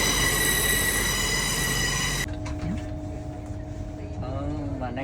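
A train at a UK railway station: loud, steady broadband rumble and hiss with high whine for about two seconds, then a cut to quieter ambience carrying faint tonal hum and wheel or brake squeal.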